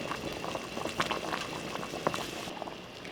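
Pot of marmalade with chopped peel boiling steadily, a dense bubbling and popping simmer heard up close with no talking.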